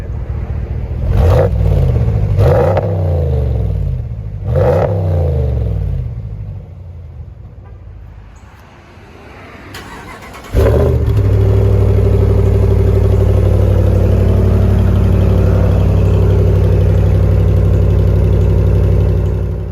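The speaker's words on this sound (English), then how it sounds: "I'll set it up, give it a couple revs here for you." A Ram 1500 pickup with a Hemi V8 revved a few times in quick blips, each rising and falling, then settling and restarting into a deep, steady, loud idle rumble up close.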